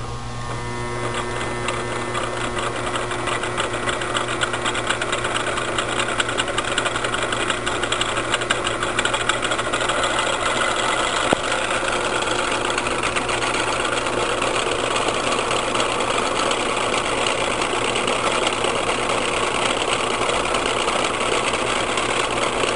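A three-phase AC induction motor on a test bench runs with a steady electrical hum and whine, a continuous droning tone that holds evenly throughout, close and fairly loud.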